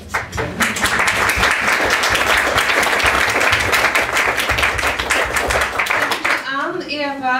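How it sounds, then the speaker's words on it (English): Loud, sustained audience applause for a design panel, dense clapping that builds quickly and holds before breaking off near the end, when a voice is heard speaking. "Big Fantastic, applause."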